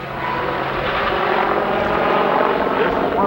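A military attack helicopter, a Persian Gulf frontline type, passes at a 1992 airshow, its steady rotor and engine roar filling the air continuously with a faint pulsing chop.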